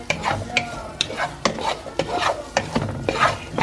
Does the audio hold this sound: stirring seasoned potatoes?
yes